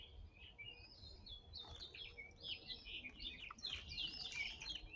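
Song sparrows, phoebes and other songbirds sing and chirp at once, bright warbling phrases overlapping at a moderate distance over soft outdoor background noise.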